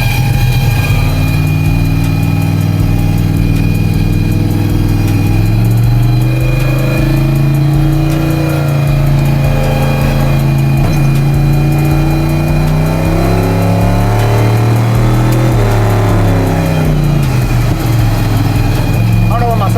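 A 427 LSX big-turbo truck driving on the street: a loud, close engine drone with revs that swell and ease, a steady mechanical roar running the whole time, with a turbo-like whine above it.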